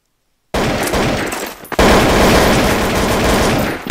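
AK rifle gunfire in Counter-Strike: Source, starting abruptly after a moment of silence as loud, close, continuous automatic bursts with a brief gap before a sustained stream.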